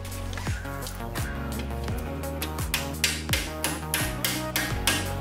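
Metal strikes ring out as a punch or Torx screwdriver is hammered against the brake caliper pins of a BMW X5 G05 M Sport. About a dozen sharp, resonant taps come in an uneven rhythm, close and fairly loud.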